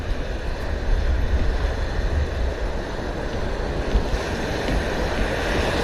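Rough ocean waves surge and crash continuously around a small fishing boat at sea, loud and close, with steady wind buffeting the microphone and no talking.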